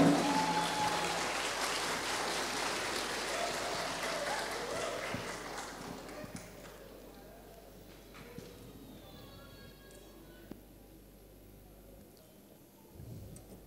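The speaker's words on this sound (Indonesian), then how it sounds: "Boleh kita berikan tepuk tangan?" An audience applauds at a graduation ceremony of an Islamic boarding school in Makassar, dense clapping loud at first and then fading away into a quieter room with a few scattered noises.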